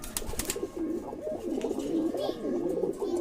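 A male pigeon in a loft coos in repeated low, throaty rolling phrases, close and clear, with a few brief clattering knocks at the start and faint background noise.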